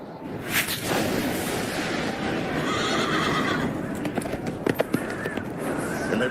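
A horse neighs loudly as a sound effect, with clip-clop hoofbeats and a rushing, dense background, followed by scattered sharp knocks.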